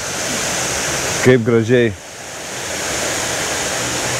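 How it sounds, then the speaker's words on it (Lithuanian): Babbling stream water rushes in a steady, broad wash, with someone briefly speaking over it partway through. "Kaip gražiai čiurlena vanduo."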